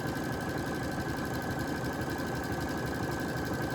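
A Brother Essence VM5200 sewing machine runs steadily while stitching along a quilting seam, a continuous even motor whir with a fine rapid needle rhythm, close and unbroken throughout.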